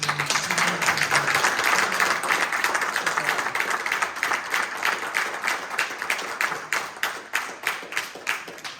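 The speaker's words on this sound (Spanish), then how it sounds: "vamos a darle un fuerte aplauso" Sustained audience applause for a speaker at a book presentation, many hands clapping steadily for several seconds, dense at first and then thinning into more distinct individual claps toward the end.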